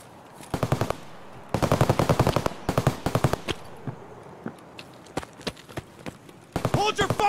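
Automatic gunfire rings out in the video game Escape From Tarkov in several sharp, rapid bursts, followed by scattered single shots and a final close burst, with a voice shouting over the firing.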